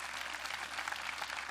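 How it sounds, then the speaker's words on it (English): Audience applause in a cruise ship theater during a Love & Marriage game show, a steady, even wash of clapping that holds at a moderate, somewhat distant level for the whole stretch. "How about a nice round of applause for the guys?"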